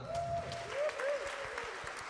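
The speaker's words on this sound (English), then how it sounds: "we get a special round of applause" Steady applause from a crowd at a jazz evening concert fills the clip, with a few whistle-like tones gliding through the clapping.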